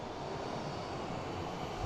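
Airplane jet engines at Boston Logan International Airport give a steady, broad roar that stays even in loudness for the whole short stretch, with no other sounds over it.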